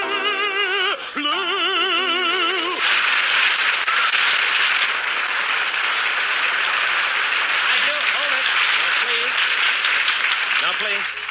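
A brief musical fanfare cuts off into sustained, loud audience applause at a 1947 variety broadcast, a dense crackling wash of clapping that holds to the end with faint voices underneath.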